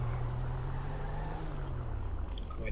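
A car in GTA 5 roleplay whips through a handbrake spin, its engine a loud, steady droning roar that holds throughout and eases slightly toward the end.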